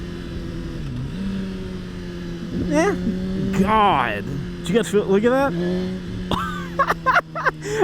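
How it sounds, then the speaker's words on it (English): A 2020 Suzuki GSX-R1000 motorcycle engine hums steadily, then rises and falls in pitch through downshifts with engine braking, heard close under a rider talking excitedly. "Let's do some downshifting and see what engine braking we got."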